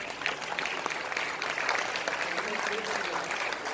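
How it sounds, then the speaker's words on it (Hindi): Audience applause at a cultural festival honoring a guest, a brisk wash of clapping heard at moderate distance, with voices mixed in beneath it. "जोरदार तालियां अनवर इकबाल साहब के लिए।"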